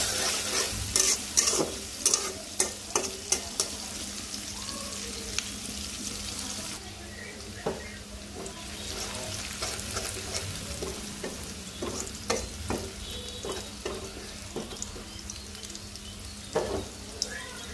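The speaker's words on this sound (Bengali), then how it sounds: "ভালো করে ভাজবো পেঁয়াজটা।" Onions frying in oil in a home kitchen pan while a fish curry is being started, with steady close sizzling broken by repeated sharp stirring scrapes and clinks, plus a faint running-tap sound in the background.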